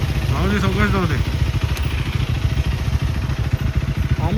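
A low-cc motorcycle engine putters with a rapid, steady rumble while riding along a valley road, close and moderately loud, with a voice talking briefly near the start.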